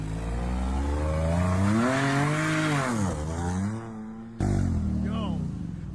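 A car revving hard as it is drifted around a corner, engine pitch rising and falling in sweeping waves, then a sudden drop and renewed climb, with people talking over it.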